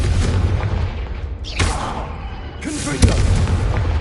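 Blasting fire spell going off in Hogwarts Legacy, a couple of booming bursts spaced over a few seconds, each sharp onset trailing into a rumbling decay, fairly loud and close.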